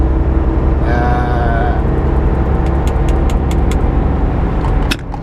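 Volvo VN780 truck with a D13 425 HP engine descending Golconda Summit on Interstate 80 in Nevada, a loud, steady low engine rumble throughout, with a brief whine and a few clicks before the level drops near the end.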